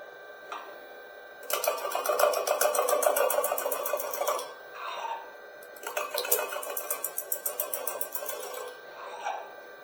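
A wood turning lathe spinning at 450 RPM while a tool cuts the workpiece gives two bursts of rapid, rhythmic chattering scrapes, close and moderately loud, with short quiet gaps between them.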